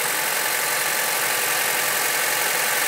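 A misfiring Acura TSX engine idles with a steady, loud, broadband hum that holds continuously, with no talking over it.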